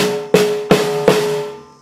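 Rio style samba snare drum groove played faster, three crisp rattling snare hits in quick succession with a ringing tail, close and alone.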